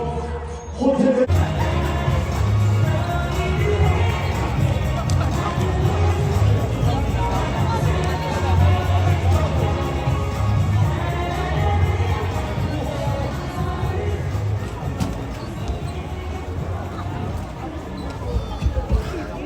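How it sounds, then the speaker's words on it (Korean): Audience at a cheerleader event clapping and cheering for a winner, a dense sustained wash of applause and crowd noise with voices talking over it throughout. "박수 한번 주시고요"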